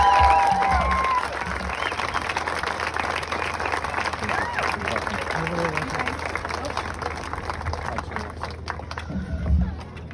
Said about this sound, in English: So applaud one another